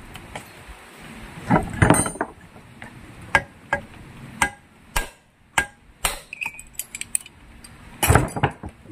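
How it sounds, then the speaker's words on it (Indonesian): Hammer taps ring on metal parts of a Yamaha 15 hp outboard motor with a rough-running fault, at irregular intervals, a dozen or so sharp metallic clinks up close with light rustling between. "Kemudian kita palu."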